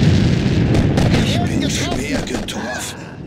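Artillery barrage in the Sudden Strike 2 World War II strategy game at Anzio, a steady rumble of booms and blasts with shouted unit voices and commands over the top throughout.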